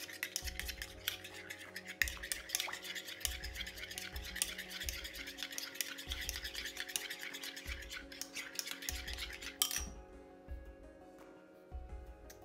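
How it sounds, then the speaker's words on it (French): Yogurt ice cream mixture with yellow food colouring being stirred in a bowl, giving a steady run of close scraping and clinking strokes that continue for several seconds, then ease off near the end. "Mélanger le tout."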